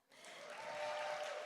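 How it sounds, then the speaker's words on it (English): Audience clapping at a Hollywood summit event on women in tech, rising quickly from near silence into a steady, moderately distant wash of applause with no talk over it. "yes, we can clap"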